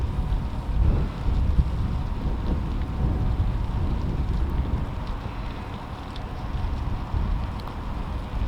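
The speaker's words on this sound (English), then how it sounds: "it's really raining hard" Heavy rain pours down hard beside a former saltwater ship entering Lock 8, a dense steady hiss with wind buffeting the microphone and low rumble underneath, with no voices.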